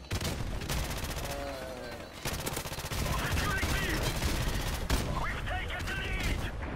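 P90 submachine gun fire in a first-person shooter game: dense, continuous rapid-fire bursts, loud and close, nearly unbroken across the stretch, with voices talking over it.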